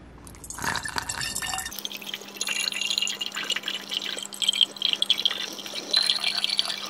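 Homemade hummingbird nectar poured into a feeder: a short clunk of handling, then a continuous thin trickle of liquid streaming into a container, with bright splashy drips and faint glassy ringing throughout.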